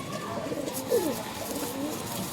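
Pigeons from a quality old-line breeding stock give a low, soft coo with one brief swelling call near the middle, heard over a steady faint background hum, with no talking.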